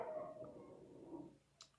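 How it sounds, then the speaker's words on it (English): A dog out back howls in a drawn-out, wavering cry, faint and distant, followed by a short sharp yip. "Sorry if you can hear the dog out the back."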